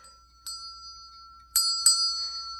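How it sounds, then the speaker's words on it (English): Three bright bell dings ring out, a soft one followed by two louder strikes close together, each with a long sustained metallic ring behind them and no speech. "to ring the notification bell for all notifications"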